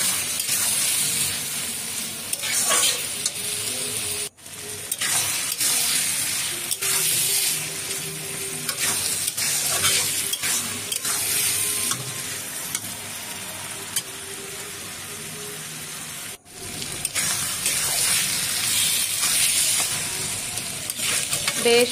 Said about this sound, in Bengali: এবার যে ভেজে রেখেছিলাম আলুগুলো সেটা দিয়ে দিলাম, সেটা দিয়ে আরেকবার কষিয়ে নেব।